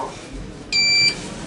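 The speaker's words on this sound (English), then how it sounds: "Now we can hear the different beeps." Electronic beeps sound inside an Otis elevator cab in an enclosed lift shaft with a cage-style shaft outside, a steady sustained tone lasting about a third of a second, clear and close over quiet background.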